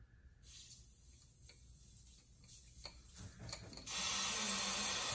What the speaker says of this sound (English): And I'm going to release the vacuum and watch what happens.